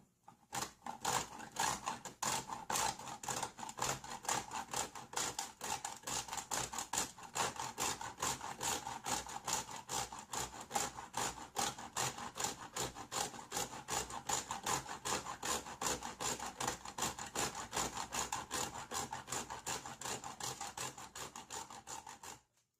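A chunk of chaga mushroom is grated into powder with a continuous fast, rasping scrape, rhythmic strokes running loudly and steadily for the whole stretch.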